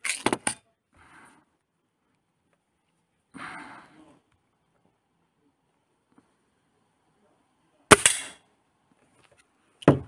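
Sharp, isolated snaps from a Gamo Maxxim IGT Replay 10 nitro-piston .177 air rifle firing 0.49 g pellets into a target 25 metres away: a quick pair at the start, then single cracks spaced seconds apart with near silence between.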